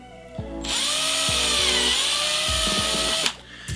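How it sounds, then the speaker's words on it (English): A power drill spins up and drills a hole into a plastic toy penguin, running steadily for about three seconds with a high whine, then stops; a few low clunks come before it. "I'm going to go ahead and drill my hole."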